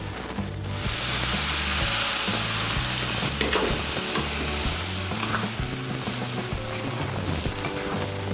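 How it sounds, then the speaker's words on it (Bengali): Hot water poured into semolina frying with winter vegetables sets off a loud, sustained hiss and bubbling sizzle right up close, continuing steadily as the pan churns. "এর মধ্যে আমি দিয়ে দিচ্ছি 1 কাপ আর হাফ কাপ গরম জল।"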